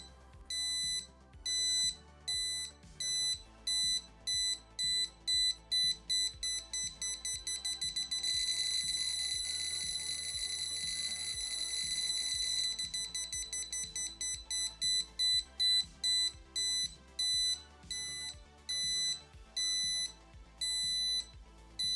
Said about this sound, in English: as we move it in, the beeps progressively pick up, meaning our setup is functioning as intended